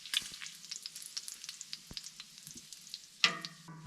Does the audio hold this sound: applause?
no